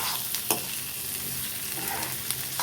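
Tomatoes and green chillies sautéing in a pan for coriander chutney, a steady close sizzle broken by a few sharp clinks of stirring.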